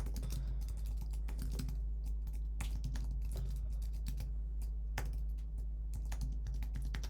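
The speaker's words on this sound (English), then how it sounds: "We type text instead." Typing on a computer keyboard, with quick clusters of clicking keystrokes in an irregular rhythm over a low steady hum, close and fairly quiet with no voices.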